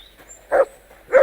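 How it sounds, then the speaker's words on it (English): Dog in Kingdom Come: Deliverance II giving two separate deep barks about half a second apart, clear and moderately close over a quiet game background. "Barking."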